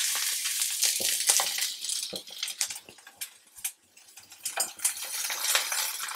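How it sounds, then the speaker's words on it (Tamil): Dense, crackling sizzle of chopped onions frying in a pan for radish sambar, with scattered pops and light metallic clinks throughout. "இப்போ நம்ம நறுக்கி வச்சுருக்க வெங்காயத்தை போட்டுக்கலாம்"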